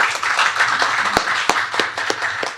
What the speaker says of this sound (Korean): 여러분 나은영 교수님을 박수로 환영해 주시기 바랍니다